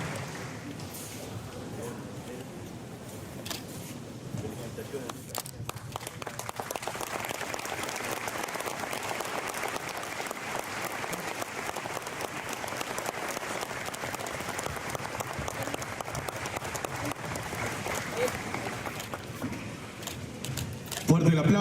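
Steady outdoor applause at a flag ceremony for a town anniversary event, a long even patter of many hands clapping that swells after a few seconds and holds, with a voice speaking at times.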